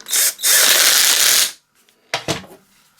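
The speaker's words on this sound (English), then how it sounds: "Then just tighten it up with a 14mm impact." A 14mm impact wrench tightens a nut on the blade brake belt assembly of a Hayter 479 series mower, with two loud close bursts of rattling hammering, the second long and steady, then a short mechanical clatter.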